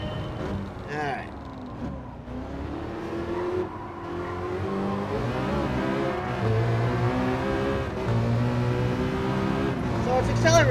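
Citroen race car in Gran Turismo 7 with its engine accelerating: a steady, close, loud drone whose pitch climbs and shifts through gear changes, lasting the whole stretch without pause.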